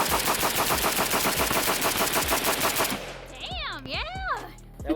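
Rapid bursts of rifle fire from a Krebs Custom M23 AK prototype without a muzzle brake, a quick string of loud, evenly spaced shots for about three seconds, followed by ringing echoes and distant shuffling.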